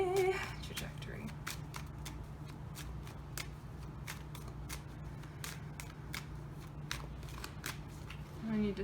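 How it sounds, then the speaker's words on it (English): A deck of tarot-style cards being shuffled, a steady run of quick crisp riffles and snaps repeating through, close up over a low steady hum, with a brief voice at the start and end. "I need to shuffle one more goddamn time"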